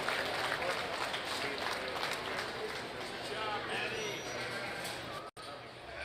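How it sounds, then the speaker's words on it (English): Audience applause at a market lamb show, a steady wash of many hands clapping in a large arena, heard from some distance and continuing without a break. "Let's give all these youngsters a very nice round of applause"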